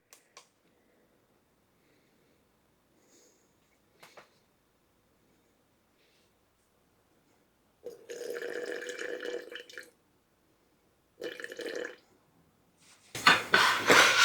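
Water poured into a bread dough starter in a kitchen: a few faint drips, then two short splashing pours into a container, followed by a louder clattering rush at the end.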